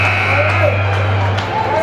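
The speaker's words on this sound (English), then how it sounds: "And at the buzzer" A steady, loud, droning end-of-period buzzer at a youth 12U hockey game in an arena, sustained throughout against crowd noise.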